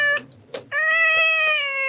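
A pet cat named Icang gives a short chirp and then a long, clear, tonal meow, close and loud in a quiet room.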